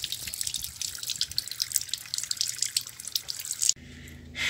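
Tap water runs and drips in a park, a steady spattering trickle that stops abruptly near the end, leaving a quieter low hum.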